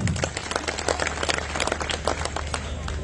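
Crowd clapping at an Aam Aadmi Party political rally in Hingna, Nagpur, a steady wash of many hands applauding for the whole moment at a fairly even level.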